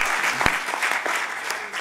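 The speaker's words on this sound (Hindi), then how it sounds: "कार्यक्रम के आयोजकों को तालियां बजाकर हम सब बधाई देते हैं" An audience at an international Hindi conference applauds the event organisers, giving a brief burst of dense, even clapping with one sharp clap standing out near the start.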